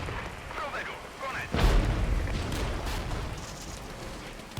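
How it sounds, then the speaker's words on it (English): A heavy artillery shell bursts in the real-time strategy game Regiments: one deep boom lands about a third of the way in, then a lingering rumble trails off beneath steady battlefield ambience and the murmur of voices. "Oh, the dispersion there on that artillery is terrible."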